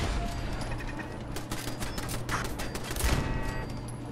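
Automated turret gunfire in Fallout 4, an underground area packed with turrets: rapid, continuous rattling bursts of shots that swell and thin out, loud and close, with no talking over them.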